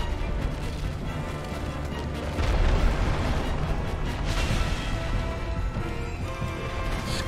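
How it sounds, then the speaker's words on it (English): An explosion in the Dark Souls video game, a loud sustained rumbling blast that swells around the middle and keeps roaring with crackling debris under dense game sound, with no talk over it. "This could be the big explosion"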